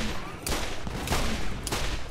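Gunfire in the video game Borderlands comes as three loud, rapid bursts spaced about half a second apart, a rattling volley over a steady noisy game background.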